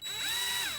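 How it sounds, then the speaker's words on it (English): Power drill boring a hole through a fuel line during fuel system prep for a FiTech install, a steady close whine rising slightly in pitch across a short burst, with no talk. "I'm going to drill a hole"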